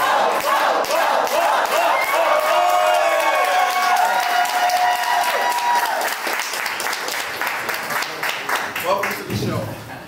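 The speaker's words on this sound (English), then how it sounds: "Everyone, give a round of applause." A live show audience greets a guest with loud sustained applause, cheers and whoops, with a voice calling out over the crowd before the clapping thins near the end.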